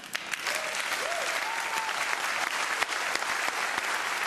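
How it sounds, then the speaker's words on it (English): A TEDxAmsterdam audience applauds a speaker, a loud, dense and continuous round of clapping from a large crowd, with a faint voice or whistle briefly rising above it. "Take your applause."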